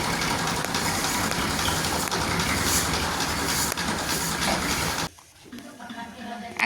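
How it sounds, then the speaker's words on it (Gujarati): A tractor engine rumbles loud and steady on a farm before fertilizer sowing, then cuts sharply to a quieter background near the end. "ટ્રેક્ટર આવી ગયું છે"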